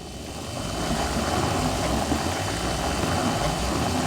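The terrain tool in the video game Astroneer flattens soil with a steady, dense whooshing drone that swells slightly and holds without a break, with no talk over it.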